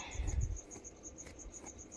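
Crickets chirp in a steady, rapid pulsing rhythm, faint and continuous against a quiet background.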